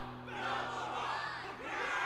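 Game crowd in Honkai Star Rail roaring and cheering at a war dance event, a dense sustained wash of many voices at steady loudness across the whole stretch, without clear individual speech.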